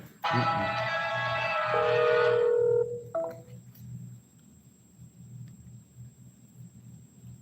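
Telephone dialing tones ring out steadily for a few seconds, then stop, leaving a low rumbling background like distant weather.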